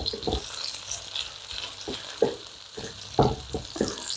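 Bacon and scallions stir-fried for Japanese-style fried rice: a light sizzle under repeated sharp scrapes and taps of a spatula against the pan, with no talking.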